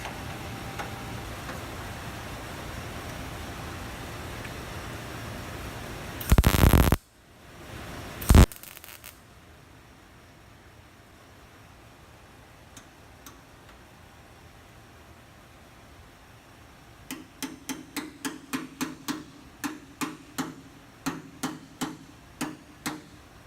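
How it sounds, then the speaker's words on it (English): Two sharp metallic knocks early on, then a steady run of light, evenly spaced hammer taps on a Mustang door's sheet metal during repair, over a constant background hum. "I'll get my hammer and I'll tap it in a little bit"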